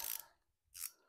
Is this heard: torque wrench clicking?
yes